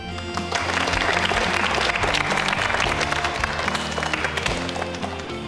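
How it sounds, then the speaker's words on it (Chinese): Applause breaks out for a student's swimming progress during military training, a crowd of soldiers clapping steadily and densely for several seconds with faint background voices. "值得大家给他掌声"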